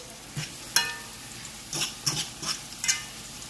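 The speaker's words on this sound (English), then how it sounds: "You see it start to fry nice and crisp." Sweet potato frying in a pan, with a low sizzle running throughout while close scrapes and taps from turning the pieces come every half second or so.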